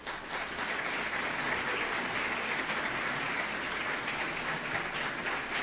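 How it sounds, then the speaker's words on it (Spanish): Audience at an academic law lecture applauds, a steady, even wash of many hands clapping at moderate distance, fairly soft and sustained throughout. "una mujer incansable para la que pido un aplauso"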